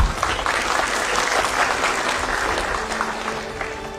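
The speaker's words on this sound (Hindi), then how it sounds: "ताली तो बजा ली।" An audience claps steadily and fairly loudly after a poem recital, a dense, sustained wash of applause with no voices over it.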